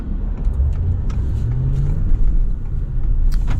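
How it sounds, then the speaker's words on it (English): Ford F-250 Super Duty V8 pickup pulling away slowly under light throttle, its low, steady engine rumble filling the cabin and rising gently in pitch as the truck gathers speed. "you can really start to hear the low rumble of the V8"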